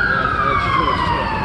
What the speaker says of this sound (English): I wonder why the ambulance can't get through.